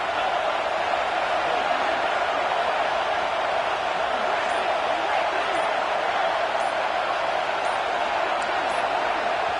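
Roaring stadium crowd in a college football video game, a dense, constant wash of fan noise during a Red Raiders drive, steady and loud with no breaks.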